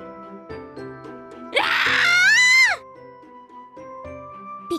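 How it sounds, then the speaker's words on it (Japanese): A girl's scream in the horror game Corpse Party: Book of Shadows rises sharply and loudly for about a second over sparse, eerie musical tones, then cuts off back into the quiet score. "ナホちゃんの悲鳴がお屋敷中に響き渡ったのは"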